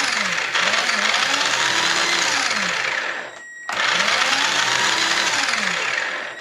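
Small electric motors of a TA RC 10B3 buggy whine at high pitch while the tires spin freely, a steady loud buzz that cuts out briefly and restarts, with no talking.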